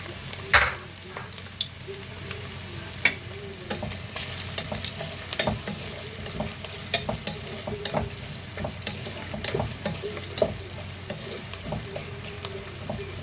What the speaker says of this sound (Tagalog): Ito, magigisa na tayo ng pagsasabayan ko na yan, bawang at sibuyas.